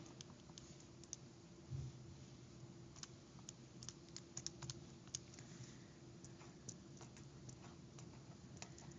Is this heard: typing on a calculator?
yes